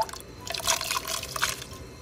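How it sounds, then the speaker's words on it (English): Hominy kernels go into a pot of salted water for a Mexican vegan guisado, giving soft splashy plops and drips over about two seconds, close and fairly quiet. "To the water, I added a little bit of salt, and you're gonna add your hominy."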